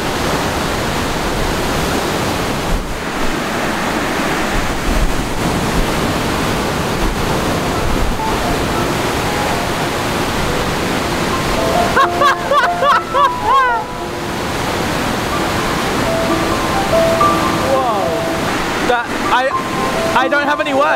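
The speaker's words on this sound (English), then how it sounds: "the coolest waterfall I've ever seen in my life" A large waterfall roars in a steady, loud wash of broadband noise, while excited voices and some handling sounds break in near the end.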